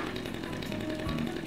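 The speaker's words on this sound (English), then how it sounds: "if you don't want to throw your chainsaw away, you can at least let it run" Chainsaw idling and revving steadily in the zombie video game Dead Rising 2, a continuous buzzing motor drone, loud and close, with no talk over it.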